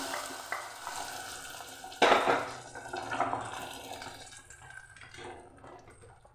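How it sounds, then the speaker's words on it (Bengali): Hot dried red chilli tempering poured into a vegetarian dish, producing a sudden loud sizzling hiss that gradually dies down amid soft stirring, close up with no talking. "এবার আমি ফোড়নটা ঢেলে দিচ্ছি।"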